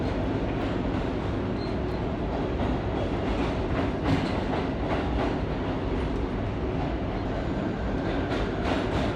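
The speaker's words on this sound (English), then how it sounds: "Ten-car train here." An R32 subway train, ten cars long, runs steadily on the rails through a curve, giving a continuous loud rumble with repeated clickety-clack wheel beats and faint squeal.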